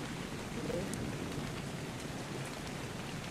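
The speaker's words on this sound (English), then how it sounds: "It's raining!" Steady rain falling in a video game, a dense, even hiss of droplets throughout at a soft, constant level with no voices.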